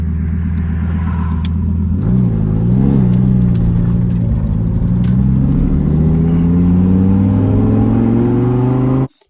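A Lamborghini Gallardo with a suspected bad transmission drives along; its engine drone climbs steadily in pitch as it accelerates, loud and close throughout, then cuts off abruptly at the end.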